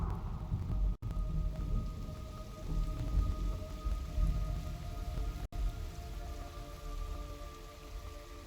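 Rain and thunder in the video game Metal Gear Solid Delta: Snake Eater, a steady downpour hissing on surfaces with rolling low thunder rumbles, broken by two brief dropouts, no speech.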